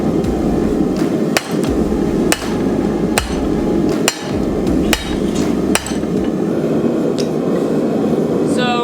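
Sharp metallic hammer blows ring out on a railroad spike being forged into a knife, at a steady pace, about eight strikes spaced roughly a second apart, over a constant background hum.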